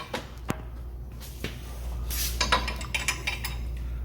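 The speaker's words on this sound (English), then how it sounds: "use your 14mm socket on a 6-inch extension and your 17mm box wrench to loosen the upper and lower bounds" Metal tools clinking and clicking while a 14mm socket on an extension and a 17mm box wrench loosen bolts on a 2019 Honda CB500X motorcycle during a lowering kit install, with scattered sharp metallic taps and ratchety scrapes.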